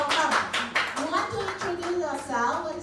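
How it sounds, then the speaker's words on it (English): A group claps to welcome a newly joined participant, a few brief bursts of hand clapping mixed in with voices talking over them. "Let's give her a round of applause."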